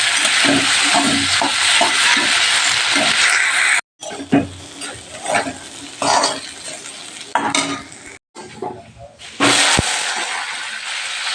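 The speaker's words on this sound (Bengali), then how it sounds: "দেখো ভাজাটা বসিয়ে দিলাম।" Potato fry sizzles and hisses loudly in a pan with stirring scrapes, the frying broken by brief silent cuts, and a faint voice underneath at times.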